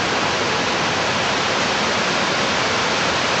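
Skate Creek near Packwood rushing steadily, a dense, continuous broadband wash of flowing water, loud and close with no voices.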